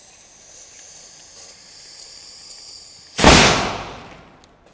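A faint steady hiss, then a sudden loud bang as a plastic bottle bursts, with the noise trailing off over a second or so.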